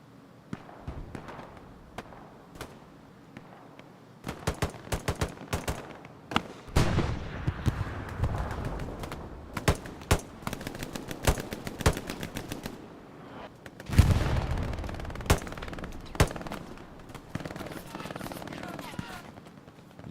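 Machine gun fire in the video game Hell Let Loose during a competitive match on the Omaha map, with rapid bursts of distant and nearby automatic fire coming in waves and heavy clusters, mixed with booming impacts and some voices.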